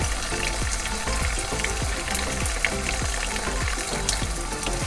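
Water splashes and gushes steadily as a boat's pump runs it out of the onboard water system during winterizing, with a rhythmic pulsing beneath the flow.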